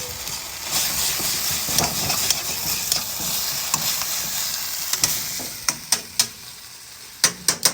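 Black pepper steak stir-frying in a pan, with a constant sizzle under repeated scraping stirs, then sharper isolated clinks of the utensil toward the end, close and loud with no voices.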